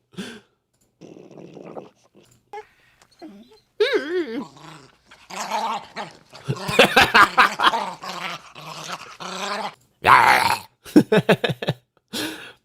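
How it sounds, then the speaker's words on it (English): A growling small-dog sound sample plays in short, spitty, aggressive bursts: snarls, whimpers and yips broken by brief silences, loud and close. "It sounds like a really small, like aggressive dog just like biting at you."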